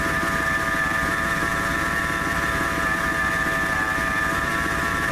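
Steady engine running at idle under the hood of a 1997 Ford F-150, close to the idler pulley, with a constant mechanical whine held over a low rumbling drone throughout, no talking.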